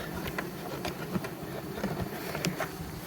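A large bee swarm in a swarm trap gives a steady, close insect buzz with faint passing hums and small knocks across the whole stretch.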